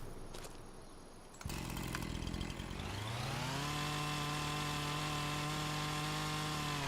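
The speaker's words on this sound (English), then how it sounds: "Don't run with a chainsaw." A chainsaw revving up steadily as it cuts through a leftover sliver of tree trunk on a farm, starting with a few rough bursts before settling into a loud, sustained whine with no talk.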